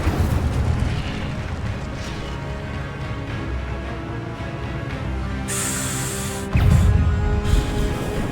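Spell blasts boom and burst in Hogwarts Legacy combat, with a dense, loud rumble throughout, a bright hissing spray in the middle and a heavier low blast about two-thirds of the way through.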